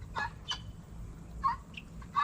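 Turkeys gobble and cluck in short scattered bursts over a low rumbling background, several calls spaced irregularly, fairly faint.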